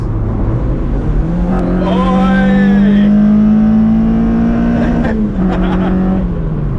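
Mazda MX-5 fitted with individual throttle bodies revving loudly and steadily, its engine note climbing and holding high before dropping back, sustained and close throughout.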